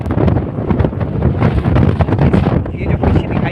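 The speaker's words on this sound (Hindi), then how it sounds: "और अभी इस समय काफ़ी तेज हवा है और साथ ही बारिश की फुहार है।" Strong wind gusts across the Mandu valley during light drizzle, a loud, rushing roar buffeting the microphone in uneven bursts.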